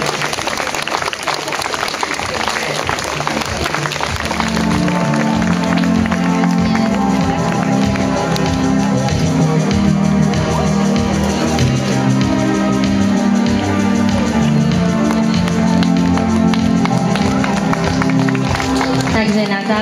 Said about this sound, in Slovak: Poprosím potlesk.